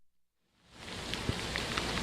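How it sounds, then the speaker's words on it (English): Hurricane rain pours steadily onto flooded streets, starting after a brief quiet moment and building into a loud, continuous hiss with a few sharper drop impacts. "hopefully these streets don't get any more flooded than the rain that's falling on them right now"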